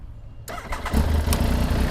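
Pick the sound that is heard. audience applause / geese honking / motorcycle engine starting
motorcycle engine starting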